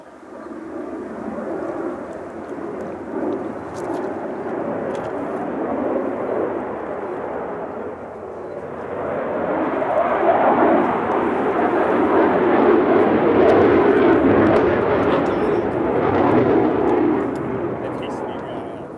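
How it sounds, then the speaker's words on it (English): Airplanes flying overhead near a carp fishing lake make a continuous broad roar that swells louder and closer midway through, with no pause. "these planes are starting to really do my head in"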